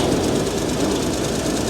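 Engine of a 1953 Chevy dump truck, left sitting on a ranch for decades, running steadily at a loud, close idle with a rough low rumble and slight knocking throughout.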